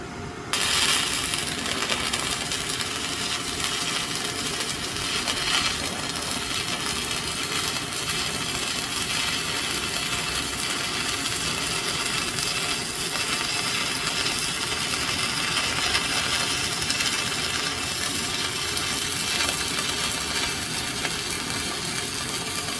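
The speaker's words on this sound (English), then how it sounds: "We're going to do some welding here." Stick welding with an Arc Captain ARC 165 Pro welder using rods from 1/16 to 1/8 inch, a steady, loud crackling sizzle that runs unbroken for over twenty seconds with no talking.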